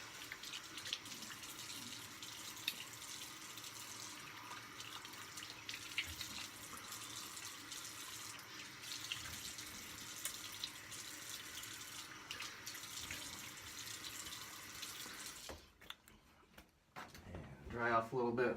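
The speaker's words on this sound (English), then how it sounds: "I'm going to do my cold rinse." Cold tap water runs steadily into a bathroom sink for a rinse after shaving, a continuous close hiss with faint splashing that stops near the end, followed by some brief handling noise.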